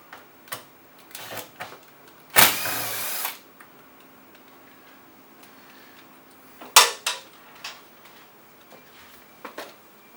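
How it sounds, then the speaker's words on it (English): Screws being driven out of the top of an SKS 30-inch column refrigerator with a power driver, one longer whirring burst and a shorter one later, close and fairly loud, with light clicks and handling taps in between. "So now you're going to remove the two screws"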